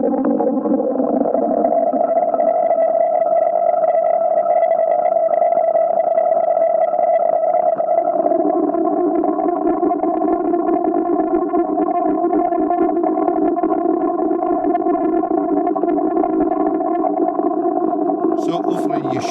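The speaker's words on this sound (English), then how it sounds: "Hopefully you can hear those between clean and dirty routing" A synth tone processed through the AudioThing Wires plugin, switched from clean to dirty routing partway through: a sustained, buzzing, harmonically rich drone that grows denser and grittier after the change, steady and loud with no talk.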